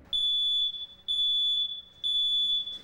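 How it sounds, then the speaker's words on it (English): A household smoke detector alarm sounding, three loud piercing high-pitched beeps in an even repeating rhythm, each roughly half a second long with short gaps, heard alone and close. "each of these smoke detector technologies uses a different kind of sensor to alert you"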